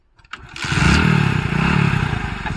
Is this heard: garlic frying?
no